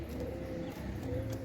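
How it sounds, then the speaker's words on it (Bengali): Soft, low cooing from domestic desi pigeons, including a male, murmurs quietly at close range in a loft, a faint continuous burble with no talking. "এটা একটা নর কবুতর"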